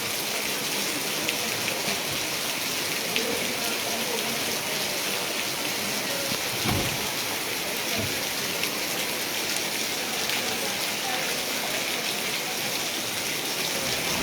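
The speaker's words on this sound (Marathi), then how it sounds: "इथे कोयना धरण परिसरात पाऊस हा चालूच आहे सध्या" Steady rain pours down in a constant, dense hiss over the Koyna dam area, with a faint thud or two and no talking.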